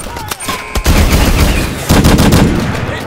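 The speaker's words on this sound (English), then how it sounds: "He's got machine guns on, so I don't really want to stand in the way for too long" Enemy machine gun fire in Call of Duty: Advanced Warfare, loud dense bursts of rapid automatic shots that start after a brief pause and continue with a short break, close and harsh.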